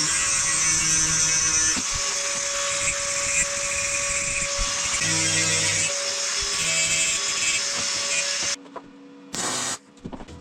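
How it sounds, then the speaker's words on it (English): A power tool cuts through a metal door hinge on a DINO lift, a loud steady whine and grind lasting several seconds before breaking into short bursts near the end. "So I'm gonna cut this thing off, make it a bit shorter, weld it back."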